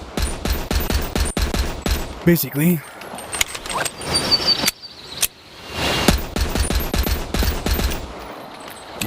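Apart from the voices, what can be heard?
Kendo's Silver Ghost handgun firing in a Resident Evil video game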